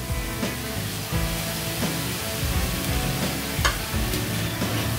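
Methi greens tossed with freshly grated coconut stir-fry in a pan, a steady close sizzle broken by repeated scraping stirs of a spoon against the metal.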